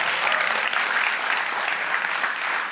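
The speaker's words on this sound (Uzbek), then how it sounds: "Mirchakar Fayzulloyev 2 ochkoga munosib belgilab bitta qarsak chalinglar" A studio audience at an Uzbek comedy game show breaks into steady, dense applause, loud and close, sustained without a break and with no talking.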